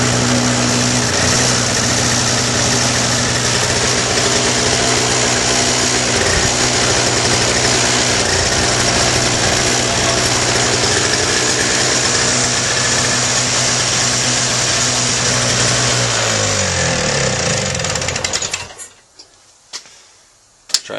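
Small engine running steadily after carburetor cleaning, a loud close buzzing idle with a fast ticking throb that holds for most of the stretch, then cuts out abruptly into near silence.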